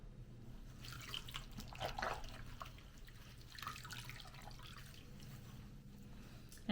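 Ink-stained fabric is rinsed under a running tap, a quiet steady wash of water with faint splashing and dripping throughout; no one speaks.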